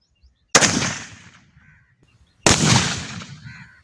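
An old rifle fires twice in a village shooting competition in rural Punjab. Two loud, close blasts come about two seconds apart, each trailing off in a long rumbling echo.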